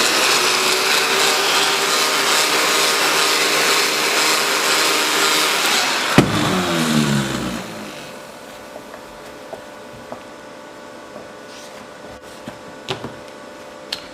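A heat gun warms vinyl graphics on a 2013 Honda CRF 450 side plate, a loud steady airy roar for about six seconds that then cuts out, leaving a quiet room with a few small clicks and taps.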